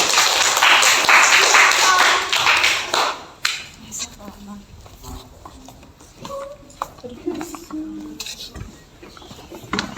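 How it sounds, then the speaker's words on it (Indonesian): A burst of classroom group clapping for a presentation lasts about three seconds, then fades into clattering noises and scattered voices. "tepuk tangan untuk kelompok yang presentasi"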